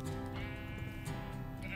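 Sheep bleat in a Mother Goose Club farm video game, several calls rising over steady game music that runs through the whole moment.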